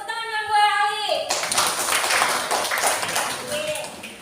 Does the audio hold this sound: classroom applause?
yes